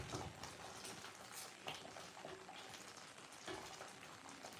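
Homemade Kenyan porridge boils in a pot, a faint, steady bubbling and hissing with soft popping throughout, no voices.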